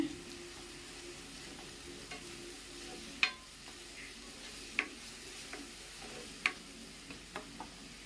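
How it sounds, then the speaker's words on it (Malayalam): Ginger, green chili and onion sautéing in a pan give a faint, steady sizzle, with a few sharp clicks of a spoon stirring against the pan scattered through. "ഇഞ്ചിയും പച്ചമുളകും സവാള എല്ലാം നമുക്ക് ചേർത്ത് കൊടുക്കാമേ എല്ലാം ഇട്ട് കൊടുക്കാം ഇട്ട് കൊടുത്ത ശേഷം നമുക്ക് നല്ലതുപോലെ ഒന്ന് വഴറ്റിയെടുക്കണേ"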